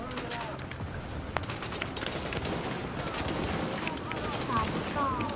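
Scopeless sniper rifle shots in a co-op shooter game set in an Amherst apartment building, sharp cracks standing out briefly amid dense continuous gunfire and game noise, with people talking over it.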